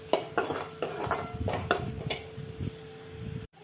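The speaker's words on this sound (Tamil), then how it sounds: "நல்லா மிக்ஸ் பண்ணி விட்டுக்கலாம்." A spoon stirs mushroom masala with chili, coriander and garam masala powders in a metal pan, giving a run of close, irregular scrapes and clinks against the pan with a faint sizzle beneath.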